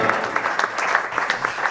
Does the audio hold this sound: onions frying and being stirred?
no